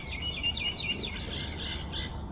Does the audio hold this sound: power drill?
no